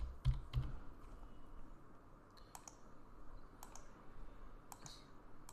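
Keys tapped on a computer keyboard during spreadsheet-style data entry, irregular bursts of clicks with short pauses, moderately close and with no voice.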